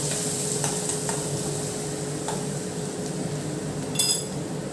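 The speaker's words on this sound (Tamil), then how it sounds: "இப்போ நம்ம இடித்து வச்சுருக்கிற மசாலாவையும் உள்ளே சேர்த்து ஒரு வறுவறுத்துக்கலாம்." Pounded masala sizzles in hot oil with a pinch of asafoetida while a spoon stirs it around the pan. The frying hiss is steady throughout, with soft scraping strokes and a bright clink of metal near the end.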